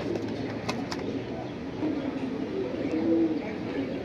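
Indian pigeons cooing in a soft, low murmur that runs throughout, with a few faint higher chirps early on, heard close amid steady background hiss.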